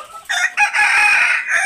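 Farm chickens drinking from nipple drinkers give a loud, harsh, stretched-out call up close, broken by short gaps, with no voices.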